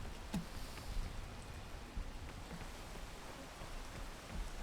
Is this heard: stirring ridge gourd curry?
no